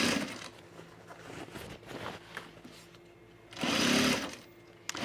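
Sewing machine stitching in a home production-sewing setup, a steady running whir with a louder burst near the end before it stops as the bobbin thread runs out.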